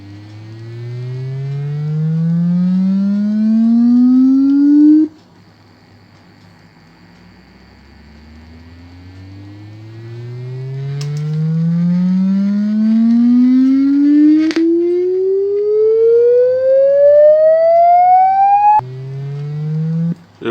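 A Sweeton 4-inch woofer plays loud rising sine sweeps, each gliding upward for several seconds before cutting off and restarting, three passes in all, with a distorted, harmonic-rich tone.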